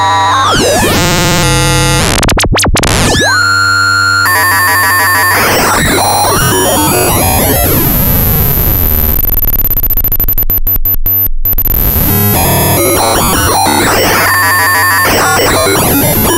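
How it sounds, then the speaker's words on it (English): A Korg Monologue synthesizer's filter is pushed into self-oscillation and modulated by an LFO square wave, giving loud, harsh, constantly warping electronic tones with abrupt stepped jumps, sweeps and sudden dropouts, and no voices. "When you push the filter into self-oscillation, then you are modulating it with an LFO at this rate. You just get the weirdest sounds that you're hearing."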